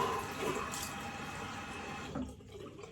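Cold running water splashing steadily during a rinse after a wet shave, a continuous close wash of liquid that thins out near the end.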